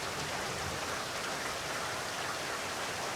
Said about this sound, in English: the sky splits open in a fit of thunder, dousing us in rain